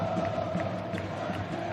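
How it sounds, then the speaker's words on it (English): Basketball fans in Carioca Arena 1 make noise during a Flamengo vs. Minas quarter-final, a continuous, dense crowd roar with scattered shouts and whoops. "the fans here in Carioca Arena 1 starting to make some noise again"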